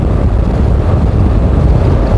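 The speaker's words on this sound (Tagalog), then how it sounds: "Napakahirap kalaban ng hangin" Strong wind buffets the microphone while cycling in a race breakaway, a loud, constant low roar with no pauses, filling the whole moment.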